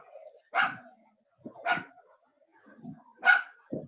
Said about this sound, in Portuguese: Quem tá com esse cachorrinho aí